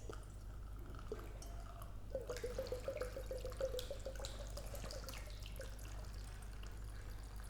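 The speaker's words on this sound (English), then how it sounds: "I'm going to pour the contents of both containers into it" Water trickles through a funnel into a glass volumetric flask, a quiet pour that rises into a ringing, bubbling gurgle partway through and then thins toward the end, heard close up with no voices.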